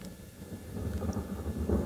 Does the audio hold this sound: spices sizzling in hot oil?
no